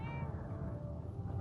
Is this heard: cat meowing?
yes